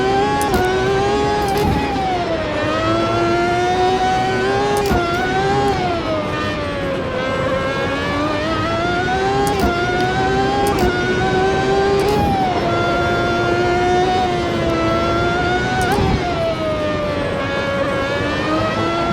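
Race car engine in the Automobilista 2 sim racing game, revving loud and close with a strong harmonic whine that climbs and drops through repeated shifts and throttle lifts, running without a break for about nineteen seconds.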